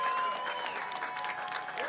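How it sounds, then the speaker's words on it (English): A crowd claps and cheers at a community event in the city. The applause is dense, steady and fairly near, and it fills the whole short stretch. "y'all gotta give another round of applause for Councilwoman Mary Sheffield"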